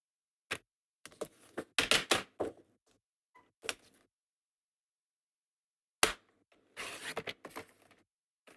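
Card stock being cut down for a handmade stamped card, heard as sharp snips and crisp paper-cutting strokes in short bursts with quiet gaps, close and fairly loud, with no talking.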